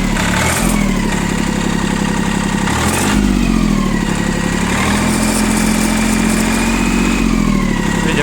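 A diesel engine on an inexpensive 4WD mini tractor with power steering idles loud and close after starting, a steady rumble with brief revving surges around the three-second mark.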